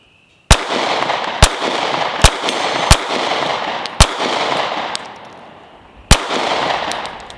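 A Sig P365 Gen 2 compact pistol fires six sharp, loud shots at uneven intervals, each crack followed by a ringing outdoor echo, with no talking.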